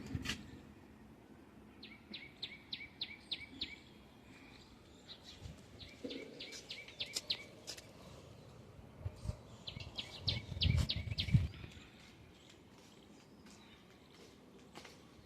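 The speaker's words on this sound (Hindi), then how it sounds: "अरे देखो चिड़ियान की आवाज़ आ रही है हमारी छत पे से।" Small birds chirp in short repeated bursts from a rooftop in a rural home at dusk, faint and somewhat distant over quiet background with occasional soft thumps and movement.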